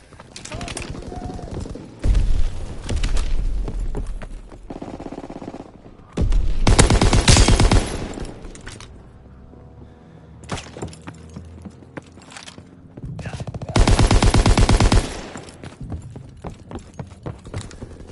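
WW2 battle gunfire, loud bursts of rapid automatic fire in several long volleys separated by quieter stretches of distant shots and shouting voices.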